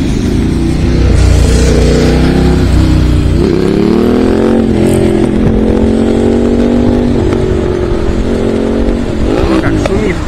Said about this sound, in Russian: Серьезный мотоцикл.